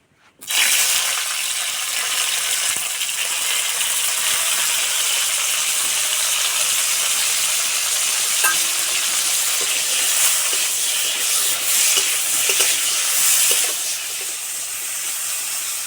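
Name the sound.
bitter gourd frying in mustard oil in a pan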